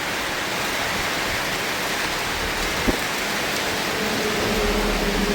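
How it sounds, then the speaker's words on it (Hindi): Steady rain pours down in the Nepal hills in a continuous dense hiss, heard from under a shed, with a single sharper drip partway through. "ये आपको बारिश भी दिखा देते हैं, नेपाल का बारिश"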